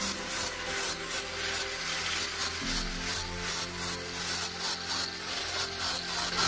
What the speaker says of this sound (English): Now, by using the stone grinder, make a rough surface on the tiles underneath the metal frame.